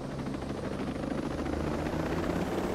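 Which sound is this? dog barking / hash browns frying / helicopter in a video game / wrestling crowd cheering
helicopter in a video game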